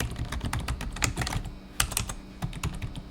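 Fingers tap quickly on a computer keyboard in irregular bursts of close, crisp clicks, with brief pauses between runs of keystrokes.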